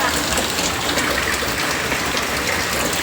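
Heavy rain pours steadily during a thunderstorm, a dense continuous hiss with a rushing, gushing quality, loud and close, with no talk over it.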